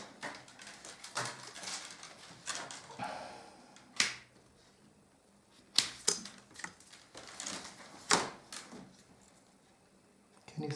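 Shears snip willow rods at a basket border, a series of sharp clicking cuts at irregular intervals with quiet handling noise between them.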